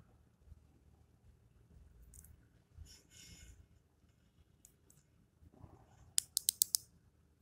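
A screw gauge ratchet clicks as it is rotated: faint creaks and scrapes give way to a quick run of sharp, close clicks near the end, with no talking.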